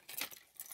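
A bunch of keys jangles in a short, bright metallic burst, peaking in the middle and shaking again briefly near the end, heard close up with no talking.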